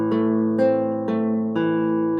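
A minor chord in open position on the middle four strings of a solo guitar, struck four times at an even pace, each ringing into the next, close and clear with no voices.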